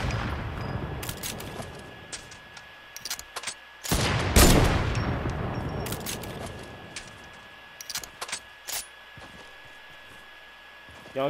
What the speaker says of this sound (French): Je tire, je les tire dessus